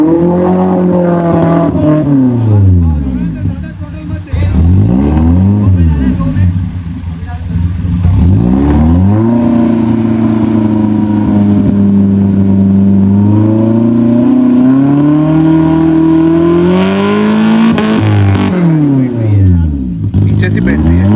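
A Maruti Gypsy off-road vehicle climbs through slush, its engine loud and close, repeatedly revving up and down in long rising and falling sweeps, with people talking over it throughout.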